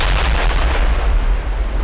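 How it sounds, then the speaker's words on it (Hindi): A bomb hidden in a tape recorder detonates inside a mosque, heard as a loud, sustained, roaring blast with heavy low rumble that fills the whole moment. "जैसे ही रिकॉर्डर का बटन दबता है भयानक धमाका होता है।"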